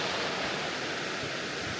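Waterfall on the Netravathi trek in the Western Ghats of Karnataka, a steady, dense roar of falling water filling the whole clip, close and unbroken with no voices.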